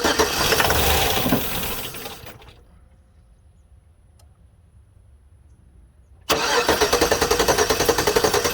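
A 2006 Chevrolet GMC Sierra truck's 5.3L LS V8 that will not run cranks loudly with rhythmic starter chugging, goes quiet for several seconds, then cranks again in a close, pulsing burst.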